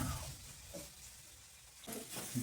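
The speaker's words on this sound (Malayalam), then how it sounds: "അപ്പൊ നമ്മൾ തേങ്ങ ഇട്ട് നന്നായിട്ട് മിക്സ് ചെയ്യട്ടോ" Grated coconut is stirred through in a hot pan with a faint, soft sizzle, scraping stirs rising near the start and again toward the end over a quiet background.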